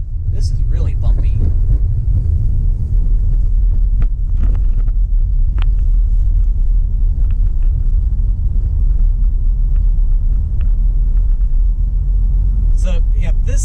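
A car rumbles along a bumpy road near Pontiac Lake Road in Waterford, Michigan, giving a loud, constant low drone with wind buffeting across the microphone, a few faint knocks, and someone talking briefly at the start and end.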